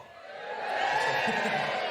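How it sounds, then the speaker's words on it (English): Women in a stand-up comedy audience cheer and whoop, a short swell that rises and holds beneath a murmuring crowd. "A few women cheering there and some metrosexual guys."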